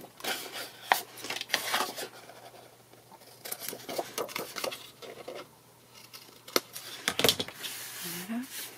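Scissors snip the corners off a paper album page in a series of short, close cuts and rustles, with a voice speaking over part of it.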